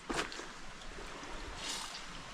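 Small waterfall and fresh water flowing steadily along a remote river, a soft continuous broadband rush heard fairly close with no talking.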